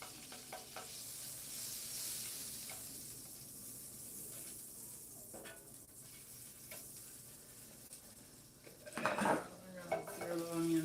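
Butter sizzles in a hot pan while a steak burrito and chicken wrap are being made, a steady hiss under scattered clinks of pans and utensils, ending with a louder clatter near the end.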